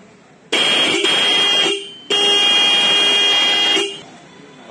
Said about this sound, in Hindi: तो भैया ये हॉर्न जो है रेड ग्रिल के नाम से जाने जाते हैं